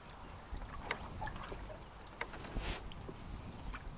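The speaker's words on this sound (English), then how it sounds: "first thing we're going to do here is take a nice slow paddle around this little island" A canoe paddled slowly around a small island on Katherine Lake in the Sylvania Wilderness, with soft, irregular paddle dips and water splashes over a light outdoor background.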